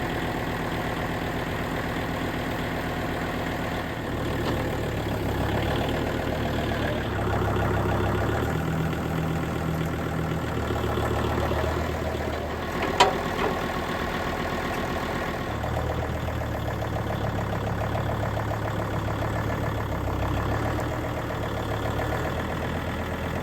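An old Kubota tractor engine idles steadily and loud up close, a continuous low chugging drone with a small knock near the middle and no voices.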